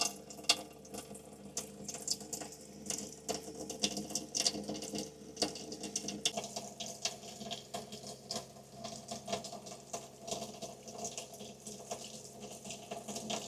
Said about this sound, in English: don't forget to run some of that water through the shower as well